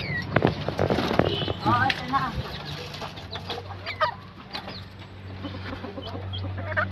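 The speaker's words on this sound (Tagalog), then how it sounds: "Yan ang aking munting mga alaga, si puti, puting labuyo." A white red junglefowl hen and her small chicks cluck and peep close by in short bursts, with someone talking over them.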